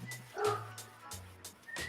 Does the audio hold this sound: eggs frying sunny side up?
no